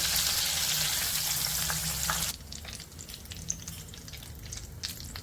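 Mushrooms deep-frying in hot oil give a loud, bright hiss and bubbling at first, then the sizzle abruptly drops to a quieter crackle with scattered pops and small clinks, no voices present.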